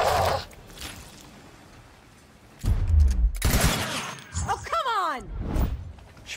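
Gunshots from the tactical video game Gears Tactics crack out in a dense burst partway through, mixed with thuds and whooshing game effects after a quieter opening.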